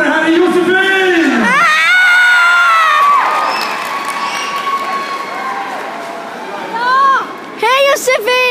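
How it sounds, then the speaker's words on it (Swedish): A crowd at a stage show in a shopping centre cheers, whoops and shouts, with children's high-pitched screams rising loudly at the start and again near the end, over continuous babble. "Stora applåder, här är Josefin!"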